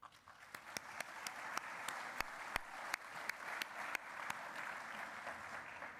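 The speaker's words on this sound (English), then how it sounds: "you should get a round of applause" An audience at a cybersecurity conference keynote gives a sustained round of applause, a soft wash of many hands with a few sharper nearby claps standing out, moderately distant, with no talk over it.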